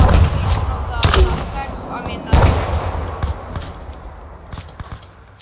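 Gunfire rings out in an Arma 3 co-op mounted patrol firefight: two loud close shots followed by scattered fainter distant cracks that fade over a few seconds, with soft background chatter.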